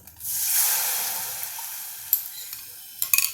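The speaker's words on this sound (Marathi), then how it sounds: "आता यामध्ये आपण ही जी पेस्ट आहे ही टाकूया टोमॅटोची" Tomato paste hits a hot pan and sizzles: a loud hiss swells quickly, then fades slowly, with a few small clinks and spoon scrapes near the end.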